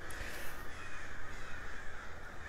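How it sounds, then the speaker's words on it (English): A large flock of crows caws continuously outside over afternoon gardens, with many harsh overlapping calls forming a dense, fairly loud wash of sound and no talking. "we get crows every afternoon that show up and just start digging through the gardens, and there's a big flock of them"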